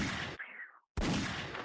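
A burst of gunfire played as a sound effect on a podcast, loud and broadband, cutting briefly to near silence before a second dense blast continues to the end.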